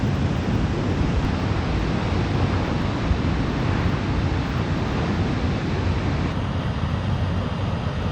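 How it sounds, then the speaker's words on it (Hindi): Water surges forcefully from Chamera Dam near Dalhousie in a dense, loud, unbroken roar that holds steady throughout. "देखो आप कितना फोर्स से पानी आ रहा है"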